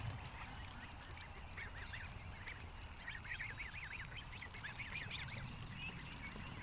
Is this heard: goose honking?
yes